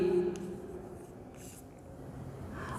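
Hand writing while working a class 10 maths problem: a soft, faint, continuous scratching of pen strokes with no voice over it.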